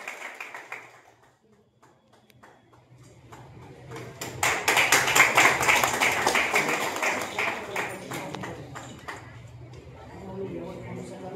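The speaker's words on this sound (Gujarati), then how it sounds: "તો જોરદાર તાળીઓ થઈ જાય" An audience at an award ceremony in Prachi village bursts into applause midway, a swelling wash of clapping that follows quieter moments and fades toward the end, with voices speaking around it.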